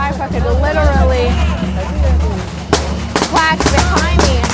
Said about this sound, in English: a firecracker literally